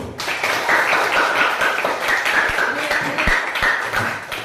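An audience at a school event claps hands in a dense, lively round of applause, close and loud, with a few sharper taps and voices mixed in underneath.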